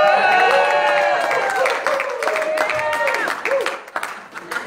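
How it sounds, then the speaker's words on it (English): A church congregation cheers and claps at a meal gathering, a lively mix of whoops, raised voices and scattered applause, loud and close, tapering slightly toward the end. "You guys ready to cheer?"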